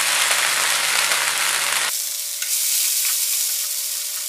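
Masala for a mushroom curry fries in a pan, a steady close sizzle with a scraping stir; partway through the hiss drops and thins, as if the heat were lowered, then carries on evenly alone.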